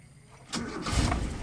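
A 1991 Toyota Kijang engine cranks and catches about halfway through, then settles into a loud, rough running rumble close by after a quiet start.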